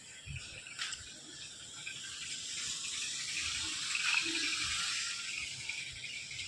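Water flowing straight from a borewell pipe, a soft, continuous gushing and splashing stream heard at a moderate distance, fairly faint and even, with a few low knocks near the start.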